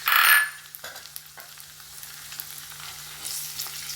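Ginger and green chillies drop into hot oil in a pan, a sharp loud sizzle burst at the start that quickly fades to quiet crackling and light stirring, with a faint steady hum beneath.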